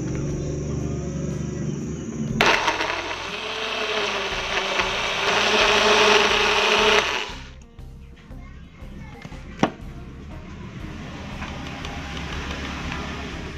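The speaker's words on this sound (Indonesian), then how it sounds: "Kita tambahkan sedikit air untuk memblender." A kitchen blender grinds spice paste with a little water for an Acehnese bottle gourd coconut curry, giving a loud, steady whirring roar for about five seconds before it stops, leaving quieter background noise.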